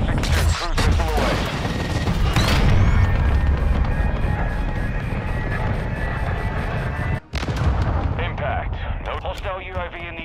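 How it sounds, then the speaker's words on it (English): Heavy, rumbling explosions from a cruise missile strike in Call of Duty: Modern Warfare 2 gameplay, a loud sustained barrage with cracking blasts and a brief pause, under in-game radio voices. "Trojan 62, cruise missile away."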